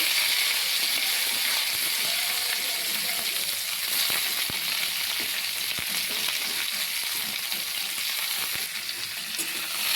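Potatoes, cauliflower stems and flat beans fry in a tempering of nigella seeds and dried red chillies, a loud, close, continuous sizzle with scattered crackles and stirring clinks throughout, without speech.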